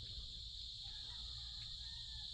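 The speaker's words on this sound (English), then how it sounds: "could you hear those crickets? They're deafening." Crickets chirp in a dense, unbroken chorus, a steady high shrill drone that fills the night air alone at a constant level, with faint low background rumble beneath.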